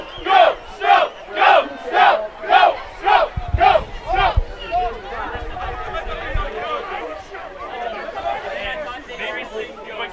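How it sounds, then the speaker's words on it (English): Fans at a college football game between Snow College and Pima CC break into a loud rhythmic chant of about a dozen even shouts, which then dissolves into a continuous roar of cheering crowd noise. "Now everybody's cheering"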